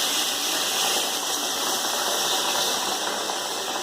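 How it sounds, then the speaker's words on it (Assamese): Water being poured little by little into chicken curry as it cooks, heard as a steady gushing rush over a constant mechanical hum, loud and unbroken throughout. "এইটো মই অলপ অলপ পানী ঢালি দিম"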